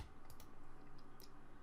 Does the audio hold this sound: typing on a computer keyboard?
yes